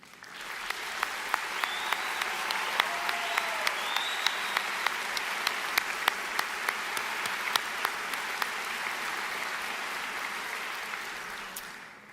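Commencement audience applauding career and technical center students: sustained, even clapping from a large crowd for about twelve seconds, with occasional sharper individual claps and faint whoops standing out.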